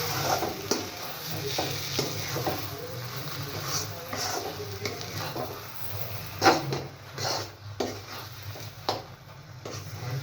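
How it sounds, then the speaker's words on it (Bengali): Mashed red lentils are stirred as they fry in mustard oil, a steady sizzle broken by repeated scraping strokes of a spoon against the pan, close and fairly loud. "এবারে এটাকে ততক্ষণ পর্যন্ত নেড়ে চেড়ে নিতে হবে যতক্ষণ এটা আঠালো না হয়ে যায়।"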